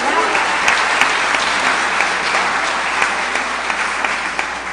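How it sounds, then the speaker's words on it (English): An audience at a Christmas festival show bursts into sustained, loud, even applause, with many hands clapping close together throughout and the crowd faintly audible beneath. "give him a round of applause for rolling with that"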